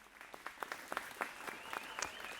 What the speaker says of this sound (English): The applause turns to cheers, and the cheers turn to uproar.